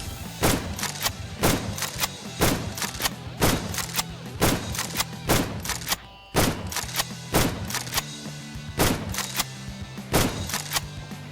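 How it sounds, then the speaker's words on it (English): A magazine-fed pump-action shotgun in a video game is reloaded from empty, with a rapid series of sharp mechanical clacks and thunks at a regular rhythm, loud and close, with no voices. "Now let's actually do like a normal empty reload."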